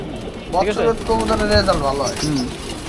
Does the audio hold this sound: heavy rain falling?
no